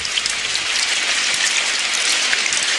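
Steady rain pours down in a cartoon scene, a dense even hiss of drops falling without a break, fairly loud and close, with no voices over it.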